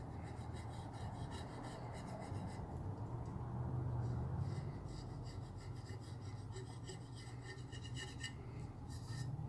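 Excess resin is rubbed off a glitter epoxy tumbler, giving a continuous close, rasping friction sound with steady strokes and no pauses.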